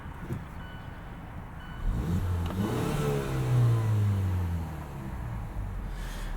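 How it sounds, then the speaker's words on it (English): A turbocharged 2018 Mazda CX-9 Signature engine, warmed up, idles low, then revs up and settles back with a rising and falling hum, heard close with steady background noise. "You can hear the engine a little bit."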